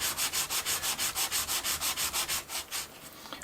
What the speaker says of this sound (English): just place the cooler over the sandpaper at the point where you want to remove the coating, and just gently start scrubbing it off